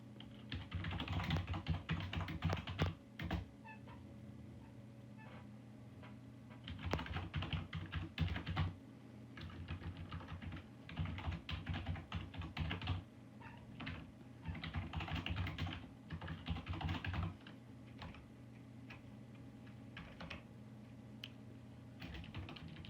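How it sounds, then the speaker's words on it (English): Java code being typed on a computer keyboard indoors, with dense bursts of quick, close key clicks broken by short pauses, soft and steady, with no talking. "I'll just do some typing"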